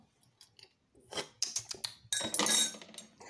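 A teaspoon clinks and scrapes against a container while stirring a slow-fermenting sugar mash in a home distilling setup, with scattered metallic taps building to a busier, louder burst of clattering near the end.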